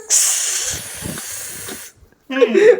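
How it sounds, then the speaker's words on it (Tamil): A continuous hiss of aerosol spray for about two seconds, close by, followed by a short pause and a voice speaking. "இந்தா ஸ்ப்ரே அடிக்கலாம் வா"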